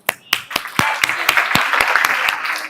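A single person clapping hands in a room, about a dozen sharp, evenly spaced claps over a low background murmur.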